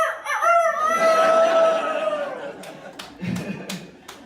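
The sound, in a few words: comedian imitating a rooster crowing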